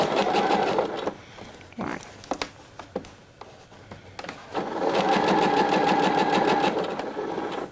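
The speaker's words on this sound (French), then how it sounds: "Je vais faire les points d'arrêt. Et ensuite, je couds en marche avant." A sewing machine stitches a blouse in two bursts: a steady whirring run, a pause with a few short clicks for the backstitch, then a longer forward run. Close and fairly loud, with a brief spoken word in the pause.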